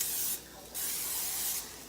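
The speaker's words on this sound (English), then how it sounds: "Okay, so I'm gonna spray this again." Cooking spray sprayed onto a pan for eggs, two short close hissing bursts separated by a brief pause.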